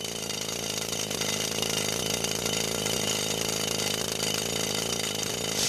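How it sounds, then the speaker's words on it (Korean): A powered drill bores holes into ochre stone at a quarry, a loud, steady, unbroken grinding roar that holds at the same level throughout with no voices. "황토석은 발파를 하지 않고 전동 드릴로 구멍을 뚫어 채석을 한다"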